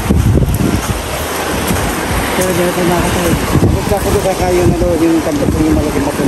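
Ocean surf washing onto a beach in San Francisco, Quezon: loud, continuous rolling wave wash mixed with heavy wind buffeting on the microphone, with a voice audible in the background.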